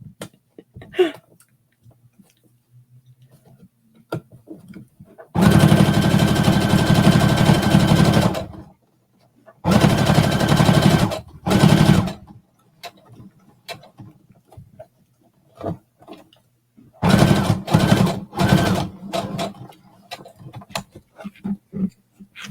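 A sewing machine topstitching fabric runs in three fast, steady bursts of a few seconds each, with quiet pauses and light handling noises in between.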